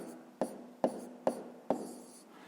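A pen writes numbers on paper during a 5th-grade math exercise, making four short, evenly spaced scratchy strokes, quiet and close.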